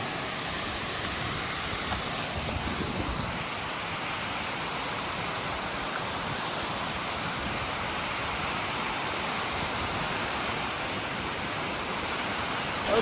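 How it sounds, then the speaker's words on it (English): Bergeron Falls, a waterfall in the snowy Canadian north, roars as a steady, dense wash of rushing water heard from close by, filling the scene without pause and with no voices. "I am pretty close to the waterfall"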